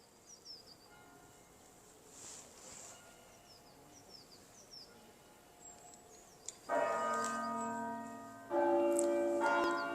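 Church bells begin ringing partway through on Easter near York Minster, loud resonant tones with sustained ringing, after a quiet outdoor stretch with faint bird chirps.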